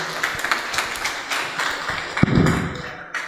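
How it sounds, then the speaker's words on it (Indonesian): Audience applause at a school talk session in an Indonesian junior high, a brief burst of clapping and taps rising near the end, loud and close, with no voices over it. "Tepuk tangan,"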